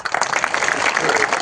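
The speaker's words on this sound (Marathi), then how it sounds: "टाळ्या." An audience in a village crowd claps at a road-project groundbreaking event, with continuous close applause and a voice partly over it.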